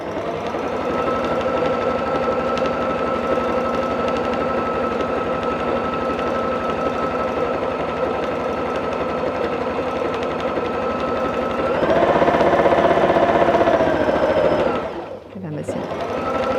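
A sewing machine runs steadily for free-motion quilting of feather motifs, a continuous close mechanical hum that speeds up and grows louder near the end before stopping abruptly.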